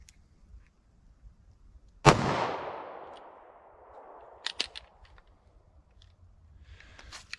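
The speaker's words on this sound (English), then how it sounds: "Trying to get a feel for the follow-up shots and recoil there." A single sharp report from a Taurus G2C pistol in .40 S&W cracks loudly and close, its echo decaying over a second or two, followed by scattered faint metallic clicks and handling noises.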